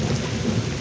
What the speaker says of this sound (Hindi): बारिश बहुत तेज़ बारिश हो रही है।